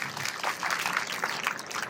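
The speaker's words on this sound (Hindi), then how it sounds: "उनके लिए भी एक जोरदार ताली हो जाए।" A crowd applauding at a Brahma Kumaris anniversary and inauguration ceremony in Ballabgarh, honouring Harish Didi; dense, steady clapping from many hands throughout, no voices over it.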